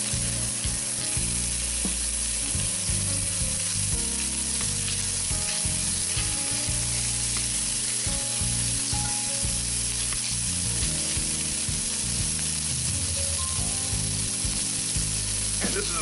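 About 3 ounces of pancetta crisping in a pan as the first step of a Bolognese sauce, giving a steady, dense sizzle and frying crackle that runs unbroken throughout, close and fairly loud, with no talking.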